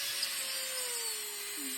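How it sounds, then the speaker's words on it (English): A power drill bores a pilot hole into a wooden wren's head carving, its steady whining hum running continuously and fairly loud at close range. "you're drilling into that"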